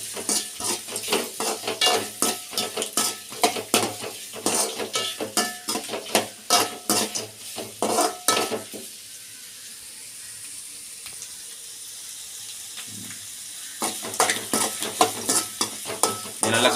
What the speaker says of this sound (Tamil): இனிமேல் இந்த வெங்காயம் வந்து வதங்கட்டும் ஃப்ளேமை கூட்டி வச்சுக்கிறோம்